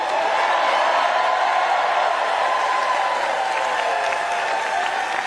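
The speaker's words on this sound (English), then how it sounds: "let's give another big round of applause" A large campaign rally crowd in Raleigh, North Carolina applauds and cheers loudly and continuously, with scattered whoops rising from the dense clapping.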